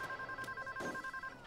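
A telephone rings inside a bank during a video game heist, a steady electronic two-tone trill repeating throughout at a moderate, fairly close level, with faint game background noise underneath.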